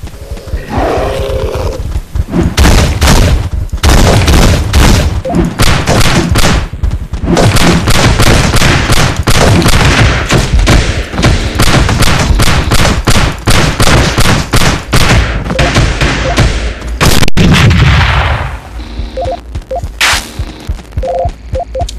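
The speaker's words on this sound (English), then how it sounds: "I just demonstrated the can gun, and that's what the can gun does." Dense, loud bursts of rapid weapon fire from the can gun in the game Teleglitch, repeating almost nonstop with brief gaps before trailing into scattered shots near the end.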